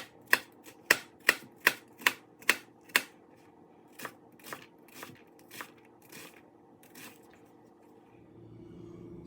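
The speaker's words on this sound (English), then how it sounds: "I'm just gonna go ahead and dice up this onion real quick." A knife dices an onion on a cutting board in a kitchen: a quick run of sharp, evenly spaced chops, then a slower, softer series of cuts, close and with no talking.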